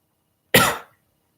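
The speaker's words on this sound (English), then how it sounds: "you see that I'm coughing from this stupid pollution here" A single harsh cough, close and loud, bursting out once and fading within half a second, with no talking around it.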